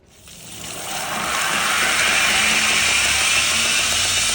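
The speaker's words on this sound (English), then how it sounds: "I will use a half worn out 36 grit 2x72 belt on my flat platen belt grinder" Flat platen 2x72 belt grinder running a half-worn 36 grit belt while a knife bevel is freehand ground, a broad hissing roar that swells over the first second and then holds loud and steady.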